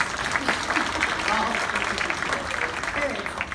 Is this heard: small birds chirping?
no